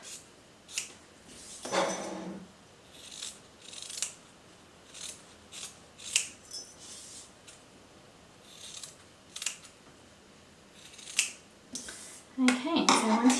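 Scissors snip repeatedly around the edge of a cut-out fabric star for a no-sew textile decoration, giving a series of crisp, close cuts with short pauses between them and a louder cluster of snips at the end.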